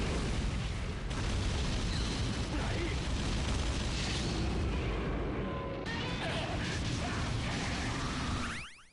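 Electromagnetic pulse blasts destroying tanks in a Godzilla video game, a dense, loud rumble of explosions and mechanical crashing that holds steady and then cuts off abruptly at the end, with a voice talking over it.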